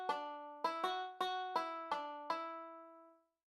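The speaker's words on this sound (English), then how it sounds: "This is a banjo." A banjo plays seven bright, plucked notes in a quick, even run, each ringing with a twangy attack and short decay before fading to silence.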